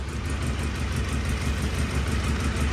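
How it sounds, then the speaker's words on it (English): A 2001 Polaris Sportsman 700 twin-cylinder ATV engine idles on both cylinders, a steady, close, low rumbling drone with an even pulse and no talking. "it's running on both cylinders now"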